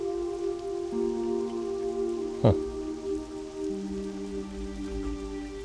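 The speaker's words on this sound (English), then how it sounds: "it's raining here. I don't know if I've seen it rain in Teldrassil before." Steady rain falls in the Teldrassil forest zone of World of Warcraft Classic, a continuous soft patter under sustained ambient game tones, with one brief louder sound midway and a single short spoken exclamation.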